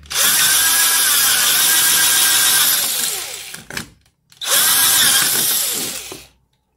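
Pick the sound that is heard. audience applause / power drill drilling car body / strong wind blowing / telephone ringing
power drill drilling car body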